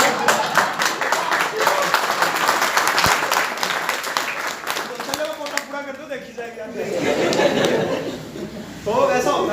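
Applause at a business meeting in Rohtak, dense clapping with chuckles and laughter from the crowd, continuing loudly throughout while a voice speaks over it in the latter half.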